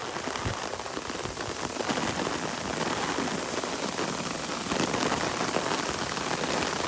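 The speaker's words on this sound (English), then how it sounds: "What you're hearing is the rain hitting my umbrella." Heavy tropical-storm rain drums steadily on an umbrella at Vanderbilt Beach in Naples, Florida, a dense close hiss of drops that stays loud throughout with no talk.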